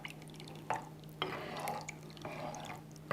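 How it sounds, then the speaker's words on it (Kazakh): Milk poured into a pot for Nauryz kozhe, a festive Kazakh dish, giving close, soft liquid splashes and drips in three short bursts with no talking. "Сондықтан мен сүт құямын."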